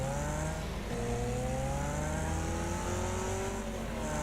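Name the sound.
racing car engine revving in Wreckfest video game, the Blade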